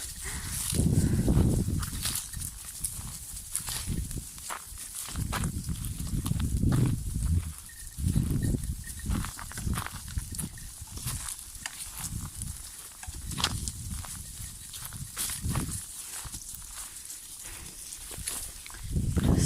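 A flock of sheep roams through an apricot orchard, hooves scuffing and rustling over fallen leaves and ground in irregular, fairly close steps, with occasional brief louder shuffles.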